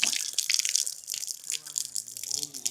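Water splashes and trickles steadily throughout as feet and then a face are washed, with a hissy, close rush. Partway through, a voice briefly comes in under the splashing.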